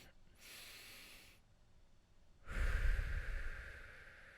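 Two deep breaths from a diaphragm breathing exercise: a soft airy inhale, a pause, then a longer, louder exhale that is breathy and close to the microphone.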